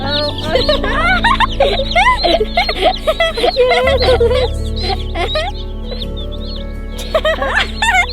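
Many chicks fresh from mail delivery peep shrilly and constantly up close, a busy overlapping chorus with low clucks, while people talk in the background.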